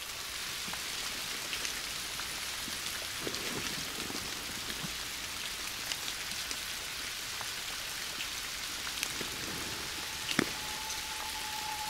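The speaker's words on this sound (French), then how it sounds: "Avec cette pluie qui parasite tout, c'est impossible." Steady rain patters on a surface all the way through, a continuous hiss with occasional louder drops, nobody speaking.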